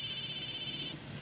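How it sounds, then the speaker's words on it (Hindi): A phone alarm rings with a bright, steady electronic tone, close and fairly loud, cutting off partway through with no voices. "फोन नहीं, अलार्म है।"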